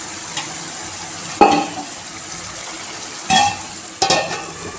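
Cabbage stirred in a pan over low heat, three distinct scraping strokes of a spoon against the pan over a quiet, faint background sizzle, close and without talk.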